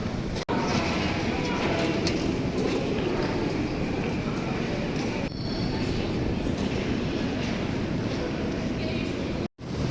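A Moscow metro train rumbles and clatters steadily through the whole stretch, loud and close, with a couple of sharp drops in the noise.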